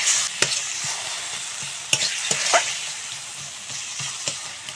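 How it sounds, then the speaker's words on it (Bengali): Ground turmeric, chilli and cumin frying with a little water in a pan, a steady sizzle punctuated by several sharp clinks and scrapes of the stirring spoon. "এখন অল্প জল দিয়ে মশলা ভালো করে কষিয়ে নেব।"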